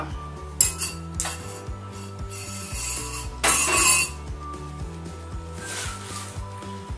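Metal cutlery clinks and scrapes against a plate while lifting the fillet off a braised royal sea bream, making a few sharp close chinks over a steady background of music-like tones.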